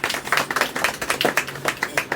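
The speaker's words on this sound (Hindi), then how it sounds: "तो इनके लिए तालियां बजा दें आप लोग" Audience clapping for two class 10 students honoured at a school award ceremony for monthly test performance, a dense patter of many hands with a rhythmic, pulsing swell, steady and moderately close.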